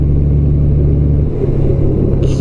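A car on a road with a yellow centre line, its steady engine rumble loud and close, shifting in tone midway as it passes while overtaking.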